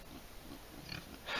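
A pig on a farm grunting softly at a water container, a few low snuffling grunts, faint and close, followed by a brief rustle at the end.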